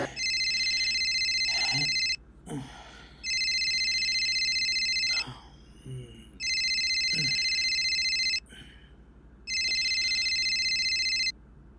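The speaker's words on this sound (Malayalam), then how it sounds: "ആ ഫോൺ കിടന്നടിക്കും." A telephone rings in four long electronic bursts separated by short pauses, with faint rustling and soft thuds in the gaps.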